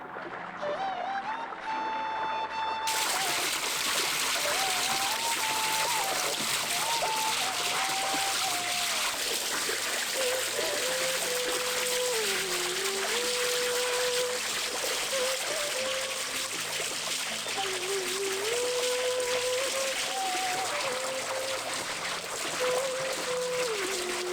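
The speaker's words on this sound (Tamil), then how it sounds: "ஆட்டுக்குடலை வறுவலா செய்யறதுக்காக நல்லா தண்ணி ஊற்றி கழுவ ஆரம்பிச்சிருவோம்" Water poured steadily over raw goat intestines while washing them for a village-style fry, a continuous splashing trickle that runs loud and unbroken for the whole stretch, with a faint tonal sound wavering underneath.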